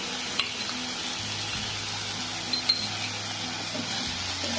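Onion and ginger paste frying in a tempering for rava upma, a continuous close sizzle with a low steady hum beneath and a few sharp spoon clicks against the pan.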